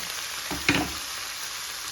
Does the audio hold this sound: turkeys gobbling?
no